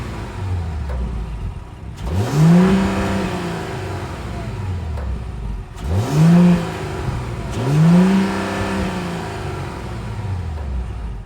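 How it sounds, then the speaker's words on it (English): A 2024 Mercedes-Benz GLE 450's 3-liter turbocharged six-cylinder engine idles with a low rumble, then revs hard three times, each throaty surge rising and falling back to idle. "let's fire up this 3-liter turbocharged 6-cylinder engine and hear how she sounds."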